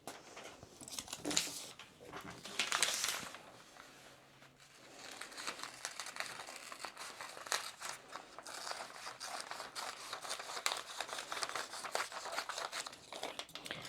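Scissors snip out a paper sewing pattern for a summer jumpsuit, making soft, close crinkling and rustling with a string of short cutting crunches at a quiet level.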